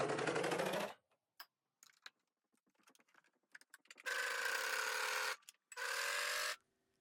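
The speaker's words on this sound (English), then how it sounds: "since I'm serging these corners, I'm going to cut off the end too, just to make it a little bit easier to get through my machine" A serger stitches through the corners of a quilted fabric bag in steady, fast mechanical bursts, running in one long burst, pausing through a stretch of small clicks and handling noises, then starting again for two more runs. No one speaks.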